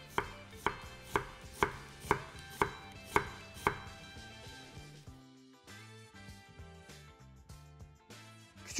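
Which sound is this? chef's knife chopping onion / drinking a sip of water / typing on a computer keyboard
chef's knife chopping onion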